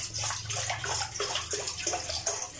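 Water splashing and gurgling as two cups are poured into a pan, uneven bursts over about two and a half seconds, moderately quiet, no speech.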